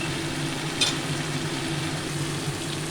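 Young jackfruit (echor) curry fries and is stirred in released oil in a pan, giving a steady close sizzle with a few soft scraping stirs. Nobody speaks.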